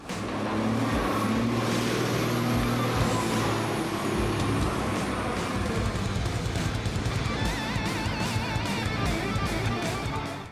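A pickup truck driving tilted on two wheels, sidewall skiing, its engine and road noise rumbling loud and steady throughout with a continuous drone and no voices.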